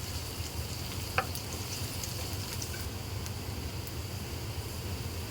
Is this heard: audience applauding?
no